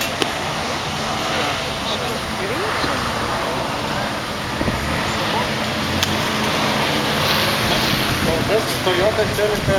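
Rally cars, including a Subaru and a Toyota Celica, race past on a track at Pajiesmeniai, engines roaring through a wash of wind and crowd noise while a commentator talks over them.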